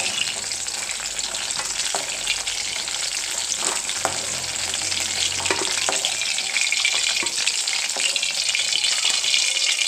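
Moringa drumsticks sizzle steadily in hot oil in a frying pan, partly cooked, with a continuous close crackle and occasional stirring clinks.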